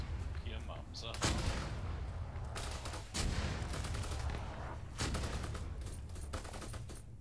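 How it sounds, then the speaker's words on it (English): Mortar fire in ArmA 3 during an Altis Antistasi combined-arms session: repeated heavy booms land around 1, 2.6, 3.2 and 5 seconds over a constant rumbling battlefield, with smaller cracking shots and a voice talking throughout. "it's firing mortars here!"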